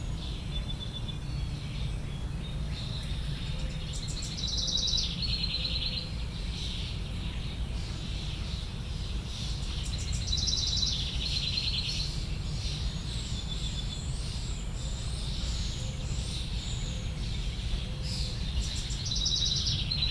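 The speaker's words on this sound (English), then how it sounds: "You've been listening to Backyard Birdsong, May 2020, Bloomington, Indiana." Backyard birdsong in Bloomington, Indiana, in May: several birds chirping and trilling in repeated bursts, with steady insect buzz and low ambient hum beneath throughout.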